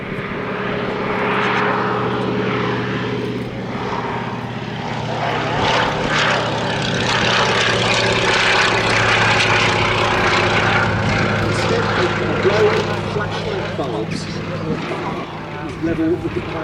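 A Fairey Swordfish Mk1 biplane flies a display at a military air show, its propeller engine a continuous, loud, droning hum throughout, with someone talking over it.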